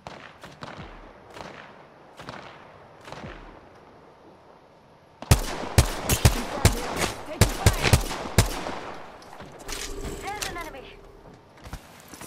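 Rapid gunfire from a squad-based shooter game, loud bursts of sharp shots in a fast cluster after a quieter stretch of distant pops, with speech-like game callouts mixed in.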